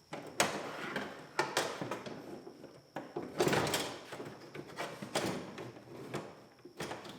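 Window regulator being worked out of a 2006 GMC Sierra door: a run of sharp metallic clunks, scrapes and rattles in bursts, fairly close, with short pauses between knocks and no talking.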